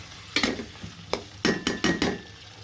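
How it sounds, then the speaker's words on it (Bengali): Snakehead fish pieces drop into hot oil in a pan, making several short, sharp sizzling bursts in an uneven rhythm, close and fairly loud against a quiet background. "তেলের মধ্যে কিন্তু ছেড়ে দিলাম মাছগুলো"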